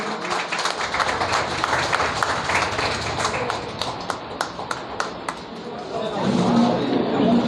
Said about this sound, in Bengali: সকলে একটু করতালি সকলে অভিনন্দিত করুন